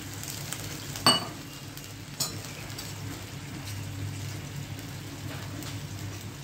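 Hot oil with garlic for a Gujarati tempering sizzles steadily close by, broken by a couple of sharp metallic clinks of a spoon against the pan.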